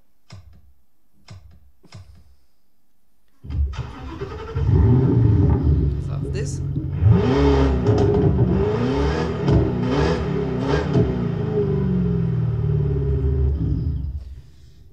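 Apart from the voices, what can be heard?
V8 car engine starting and revving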